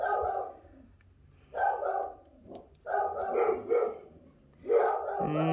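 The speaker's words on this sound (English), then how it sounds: "Never a day that they don't bark." Dogs bark in repeated bursts, four clusters of yapping barks separated by short pauses, at a moderate distance and fairly faint, with no talk over them.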